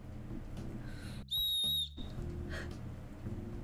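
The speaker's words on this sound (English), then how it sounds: "and it also has a whistle." A whistle built into a tactical knife gives one short, shrill, piercing blast about half a second long, standing out clearly against quiet background noise.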